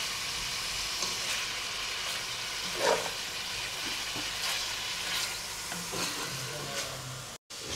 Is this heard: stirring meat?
yes